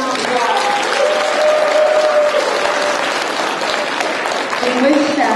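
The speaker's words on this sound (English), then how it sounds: "Yeah, give them a big round of applause." Steady, loud applause from an audience at a fifth-grade step-up ceremony, continuous throughout, with voices and faint cheers mixed in.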